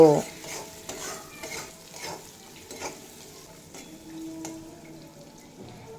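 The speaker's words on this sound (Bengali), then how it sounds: "হলুদের গুঁড়ো আর কালারের জন্য সামান্য কাশ্মীরি লঙ্কার গুঁড়ো দিয়ে এক মিনিট মতো নাড়াচাড়া করে নেব" Turmeric and a little Kashmiri chili powder fry softly in a pan, a spoon stirring and scraping through them in short repeated strokes over a low, steady sizzle, close and fairly quiet.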